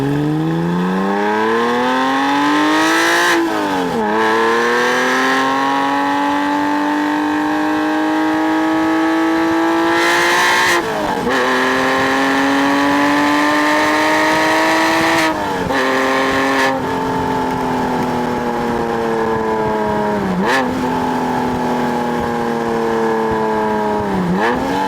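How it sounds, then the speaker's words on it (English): A Porsche 911 Carrera S flat-six engine revs hard and loud through repeated climbing pulls, each rising in pitch before a sharp drop at the shift, about five cycles in a row, close and alone without voices. "Now it just has that beautiful flat 6-tone"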